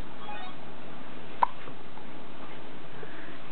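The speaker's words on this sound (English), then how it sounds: "You got the hiccups." A small child gives one sharp, brief hiccup midway through a quiet stretch that holds only faint background hiss.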